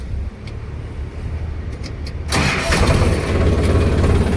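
A tractor engine idles quietly at first, then fires up about halfway through into a louder, steady close rumble.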